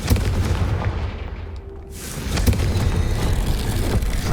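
A Confringo blasting spell goes off in Hogwarts Legacy, a heavy rumbling blast that dips into a brief hollow lull and then swells again into a loud sustained roar.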